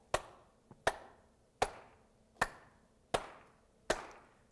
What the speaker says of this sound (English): If I asked you to clap along to the beat with me,